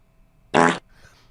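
A short, loud fart sound effect plays once during a livestream, a buzzy burst lasting about a quarter second, followed by a faint tail of background noise.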